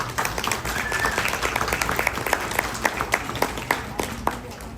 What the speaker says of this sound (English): I would say a huge round of applause for parents and teachers who have got them to here this point.